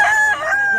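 A Hatch Gray rooster, a two-year-old gamecock, crows loudly and up close in one sustained, strained call that holds for the whole clip, with no other sound over it.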